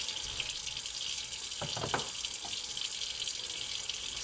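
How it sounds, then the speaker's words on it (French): Very hot tap water pouring steadily into a container, a continuous bright hissing rush with a few low clunks partway through. "je vais mettre un petit peu d'eau très très chaude. Donc là, je vais laisser couler"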